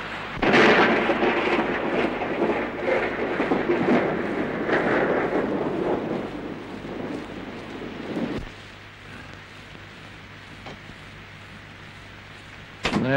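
Heavy rain pours down steadily while thunder rumbles loudly near the start, then the downpour softens into a quieter, continuous patter, with a sharp burst returning at the very end.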